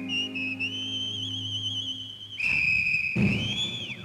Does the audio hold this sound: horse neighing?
no